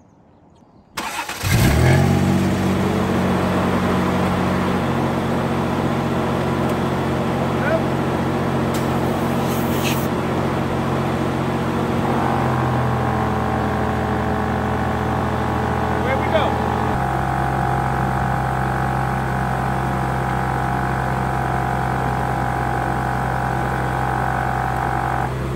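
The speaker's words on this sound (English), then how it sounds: "let's hook up the air compressor and let's see how long it takes to air it all back up." A Morrflate TenSix portable offroad air compressor kicks on and runs steadily while inflating the tires of a tall truck, a loud continuous motor drone with a shift in pitch partway through, and voices talking over it.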